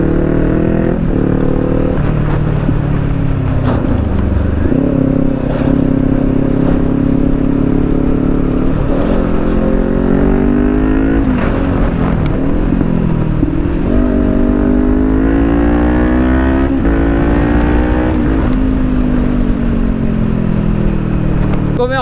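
Kawasaki Ninja 400 motorcycle fitted with an Akrapovic exhaust accelerating hard through the gears, loud and close, its engine note repeatedly rising in pitch with short dips at each shift.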